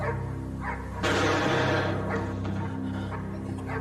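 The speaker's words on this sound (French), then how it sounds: "Dans le patio, le chien enchaîné se mit à aboyer" A chained dog barks in a patio, a few sharp barks over a steady low hum, moderately close.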